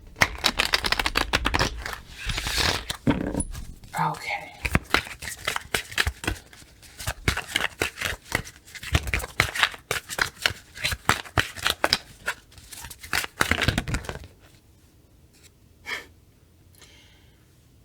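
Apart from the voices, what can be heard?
tarot cards being shuffled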